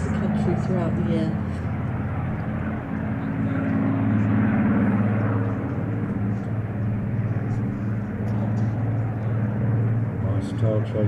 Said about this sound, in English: Nice tail chase here by the two Spitfires.